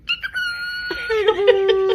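Cockatiel chirping from a played video, a few short calls then a sustained whistling tone with rising and falling pitch, clear and fairly close, with no talk over it.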